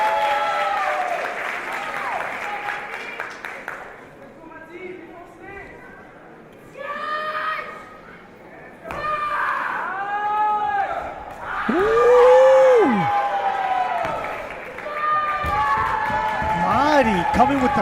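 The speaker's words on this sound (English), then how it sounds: "I like how the crowd's hyping them up a little bit." Crowd cheering and applauding at a martial arts championship, a steady roar of applause with shouts and whoops rising and falling, voices calling out over it.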